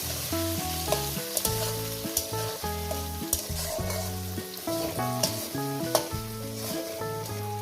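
Tomato and chili fry in a pan for a soybean and potato curry. A dense, continuous sizzle is punctuated by frequent clicking stirs, all under steady background music, with no one speaking.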